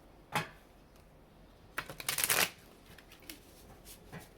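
Rider-Waite tarot cards being shuffled, a quick riffling flutter of cards up close, with a brief tap at first and a dense burst of shuffling in the middle, then a few softer flicks.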